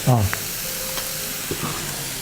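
Onions and other fish curry ingredients are sautéed with a pinch of salt in a pan, making a steady close sizzle broken by a few brief stirring scrapes.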